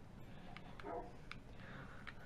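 A tamed dog in the video game Minecraft gives a few short, soft yips and whimpers, faint and spaced out over a steady background hum.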